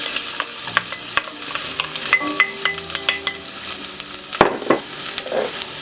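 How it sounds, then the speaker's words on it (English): Olive oil and shallot sizzling and frying in a pan for a wine sauce, with steady bright crackle and a few stirring clanks and scrapes close by, no talk. "I'm going to add some olive oil and some shallot."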